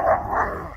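Dogs bark and growl while fighting outdoors on a farm, two close, rough bursts of noise in under a second.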